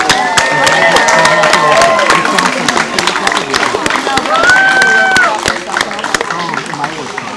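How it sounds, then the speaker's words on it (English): A graduation ceremony audience applauds, steady clapping and crowd noise running throughout at moderate loudness, with scattered voices and cheers mixed in and a few whistle-like tones riding above. "Let's give them another round of applause"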